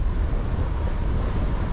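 Strong wind at a waterfall roars steadily into the microphone, a loud, dense rumble of buffeting wind noise with no pauses and no voices.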